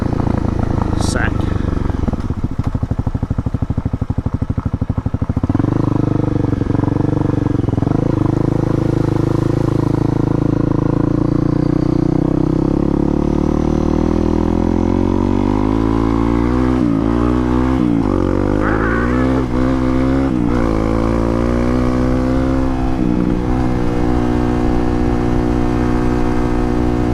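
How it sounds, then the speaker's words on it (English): A 2017 Honda CRF250L 250cc dual sport motorcycle engine runs steadily while riding, rising in pitch through shifts and revs, loud and continuous with wind noise throughout. "Like this bike compared to my MT-07, this one makes like 20 horsepower and the other one makes almost 80."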